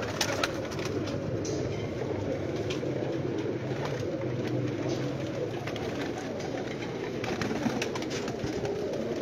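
Pigeons coo softly on a rooftop loft, low repeated murmuring calls blending into a steady background hum, with no voices present.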